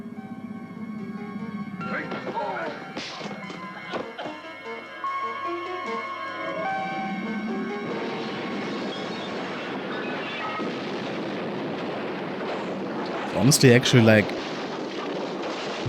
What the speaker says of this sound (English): decent practical effects here of the explosion.